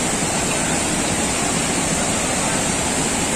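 The Lubuk Hitam waterfall roars as a steady, loud, broadband rush with no break, heavy low churning beneath a bright hiss, close by and alone without any voices.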